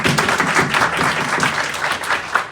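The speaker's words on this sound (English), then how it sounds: "Insert clap." An audience at a Kwanzaa community panel breaks into a short burst of lively applause, many hands clapping close by for a couple of seconds.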